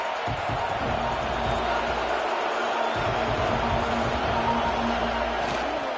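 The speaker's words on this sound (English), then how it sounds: "Crowd ready to make its presence known." Stadium crowd at an American football game roars steadily and loudly throughout, a dense sustained wall of cheering with a commentator talking over it.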